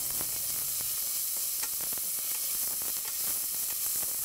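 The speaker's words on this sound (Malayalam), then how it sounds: "ഇതിലോട്ടിനി നമ്മൾ കട്ട് ചെയ്ത് വെച്ചിരിക്കുന്ന സവോളയിൽ നിന്നും കുറച്ച് സവോള ഇട്ട്" Sliced onions sizzle in hot oil with whole spices while being sautéed for mutton kurma, a steady, close, bright hiss with occasional pops and stirring scrapes throughout, no voices.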